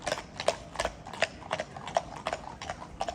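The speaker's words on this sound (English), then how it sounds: "Look at that trotting on the bitumen though." Horses trot on a bitumen road near Robin Hood's Bay, a steady, quick run of crisp hoof clops at close range with no talk over them.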